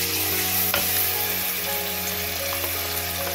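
Ground onion sautéing in hot oil, a steady close sizzle with crackling throughout, one sharp clink near the start and faint stirring scrapes underneath.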